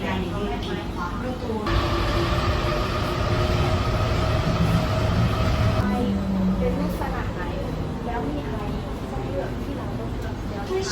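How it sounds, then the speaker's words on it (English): Rumbling interior of an airport shuttle train at Bangkok Suvarnabhumi, a continuous low drone with rising and falling motor tones and a brief squeal, loud and close throughout. "I need to catch a shuttle train to get there."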